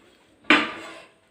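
A metal cake tray is set down inside a preheated aluminium pot used as an oven, giving one sharp clank that rings briefly and fades out in quiet surroundings.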